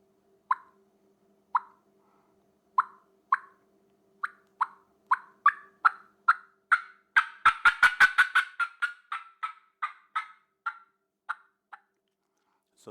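A hand-operated turkey call imitates a wild hen flying down off a roost limb: a slow, evenly spaced series of close yelps, then a quick burst of thumping wingbeat-like flutters, then more yelps that taper off, with no talking.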